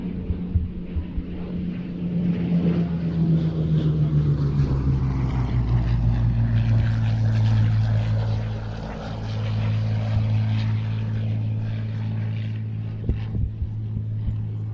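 A Hawker Hurricane Mark 12 propeller fighter flies past at an airshow, its piston engine droning steadily with a falling-then-rising pitch as it passes, loud and continuous throughout.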